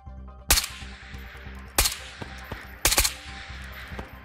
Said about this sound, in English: Why does he keep firing?